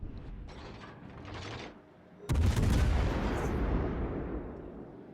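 Naval gunfire in the warship battle game World of Warships: Legends, a muffled series of mechanical clanks followed by a sudden heavy booming salvo that rumbles and fades, moderately quiet, with no talk.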